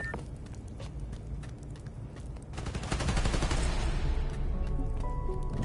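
Gunfire in Spider-Man: Miles Morales, dense rapid bursts of shots that grow louder and heavier partway through, with no talking.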